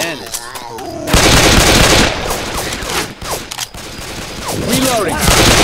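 Heavy gunfire in S.T.A.L.K.E.R. 2, with dense automatic bursts and volleys of shots that continue almost without a break. A brief lull comes near the start, and voices sound partly underneath the shooting.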